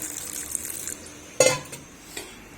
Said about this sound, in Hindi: अब हम थोड़ा सा इसके अंदर पानी ऐड करेंगे ऐसे